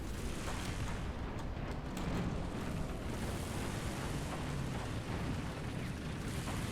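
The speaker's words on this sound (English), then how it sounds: "Artillery fire." Artillery fire in the War Thunder tank game: a continuous, loud, rumbling roar of distant bombardment with dense low booming, heard steadily throughout without any talking.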